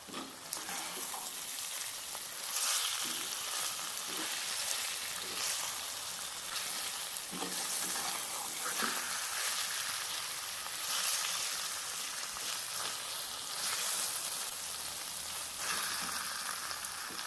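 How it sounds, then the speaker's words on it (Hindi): Carrot halwa with khoya sizzles and fries in a pan while it is stirred, a continuous bright crackling hiss with faint scraping movements, steady and close, with no one talking. "अब इसको अच्छी तरह मिक्स करेंगे।"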